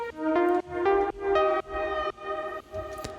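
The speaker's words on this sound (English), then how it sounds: "Next, I have a vintage verb with a big decay." Synth chords soaked in vintage-style reverb with a long four-to-five-second decay, several sustained tones swelling and blurring into one another, clear and fairly loud with no talking.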